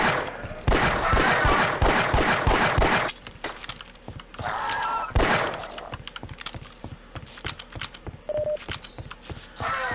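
Laser-guided weapon firing in Half-Life: Opposing Force, a dense burst of rapid gunshots for about three seconds, then scattered sharp shots and clatter continuing through the rest.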